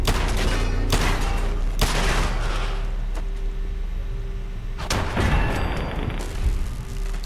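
Gunfire aimed at a robot in the video game Fallout 4: a few loud, close bursts of shots, separated by quieter stretches, and a final volley near the end.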